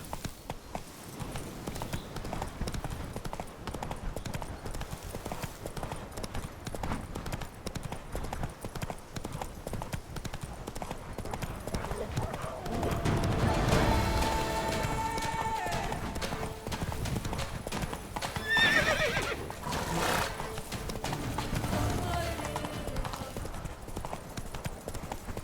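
Horse hooves clip-clop at a gallop in The Witcher 3: Wild Hunt, Blood and Wine, a steady rapid beat close by with a brief whinny-like burst midway and faint game sounds behind.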